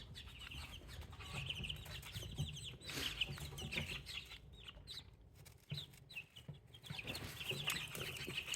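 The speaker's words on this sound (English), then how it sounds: "I just wanted to check on my incubator chicks" Young incubator chicks cluck and peep in soft, uneven bursts, close but faint, with brief quiet gaps between the chirping calls.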